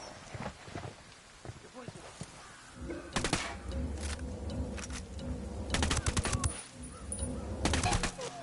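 Gunfire in the Ghost Recon Wildlands video game: repeated sharp bursts of automatic fire, fairly close and growing denser, mixed with footsteps and game ambience while voices talk.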